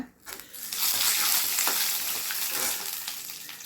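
Peanuts and curry leaves dropped into hot oil for an amla rice tempering, bursting into a loud, dense crackling sizzle that swells quickly and then holds steady, close by with no voices.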